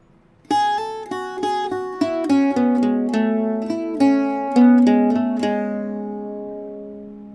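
An Irish bouzouki plays a lively melody of bright, ringing notes, picked one after another with resonant sustain that fades out at the end.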